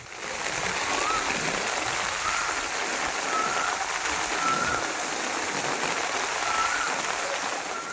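Heavy monsoon downpour over villages in Saurashtra, Gujarat, with water flowing strongly through a market street: a steady, dense hiss of rain, loud and unbroken throughout, with faint higher chirps scattered on top.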